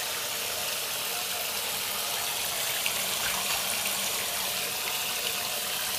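Water runs steadily into a bath as a continuous, even hiss of moderate level, with no voices over it.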